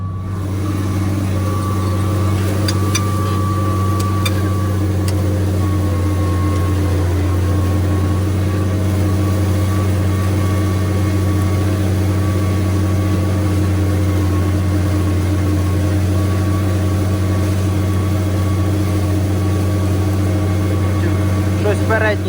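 A heavy tractor engine drones steadily and loudly while ploughing, a constant low rumble with a faint whine on top, recorded from close by.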